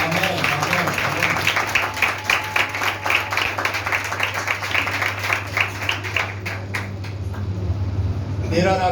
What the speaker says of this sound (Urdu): تالی بجا سکتے ہیں؟